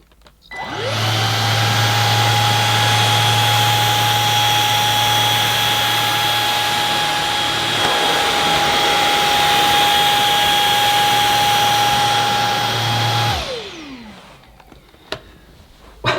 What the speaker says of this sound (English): I'm going to use it on the medium or mid setting, which is the default setting when you first turn on this Samsung cleaner